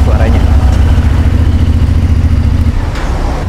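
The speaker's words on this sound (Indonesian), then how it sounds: "Ini suaranya kayak V-twin, kayak apa lagi ya, kayak R7." A motorcycle engine with a V-twin-like character, the kind heard on an R7, idling loud and close with a deep, steady, pulsing rumble throughout.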